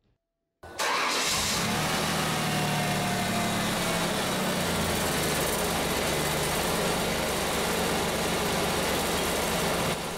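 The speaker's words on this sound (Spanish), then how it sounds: "El motor tiembla o vibra demasiado." A car engine with a fault that makes it shake and vibrate excessively starts up, then runs steadily with a loud, rough, continuous rumble and no voices.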